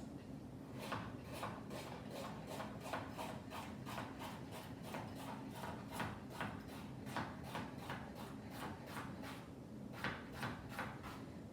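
A knife slices carrots thinly on a cutting board, giving a quick, even series of crisp chopping knocks that repeat about twice a second, close and fairly quiet, with no talking.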